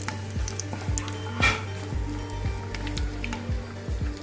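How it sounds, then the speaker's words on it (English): Cashew nuts and raisins frying in a pan for vermicelli upma: a steady close sizzle with regular scraping stir strokes roughly every half second and one brighter crackle early on. "Need to fry these ingredients until it is light brown in color"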